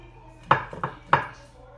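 A breakfast hash crust pressed down in a pan for a deep dish breakfast pizza, three firm thudding knocks with a softer scrape between them, close and distinct, with no talk.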